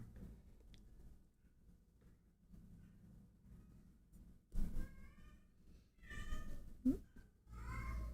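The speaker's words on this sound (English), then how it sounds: "Can hear them meowing in the background there." A cat meows several times in the background, faint, drawn-out calls rising over a low indoor hum, with a couple of louder thumps between them.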